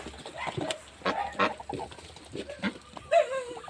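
Chickens and turkeys squawking and honking in a busy farmyard, several birds calling over one another at close range with short, irregular bursts.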